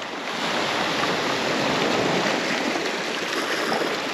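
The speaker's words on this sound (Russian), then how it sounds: "Вот оно море." Sea surf rustles steadily on the beach at Lazarevskoye near Sochi, a continuous broadband wash of waves close by with light wind noise and no voices.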